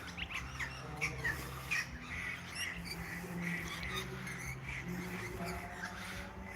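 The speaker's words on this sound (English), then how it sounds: "The birds are having a feed" Flock of birds feeding outdoors in Melbourne, Australia, squawking and chattering constantly in a dense, busy layer of overlapping calls at moderate distance, with no speech.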